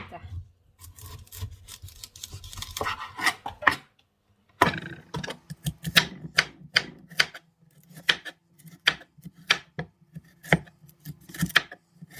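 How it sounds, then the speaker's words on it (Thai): A knife slices bamboo shoots into thin pieces on a board, giving a steady run of sharp, close cutting taps. A soft, low murmur sits under the first few seconds, then the slicing continues alone. "ฝานนะคะ เป็น เป็นชิ้นบางๆนะคะ"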